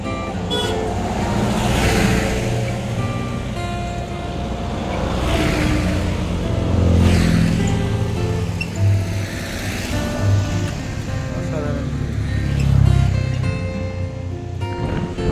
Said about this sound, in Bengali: এরপর আমাদের গাড়ি এগিয়ে চলল এনজিপির উদ্দেশ্যে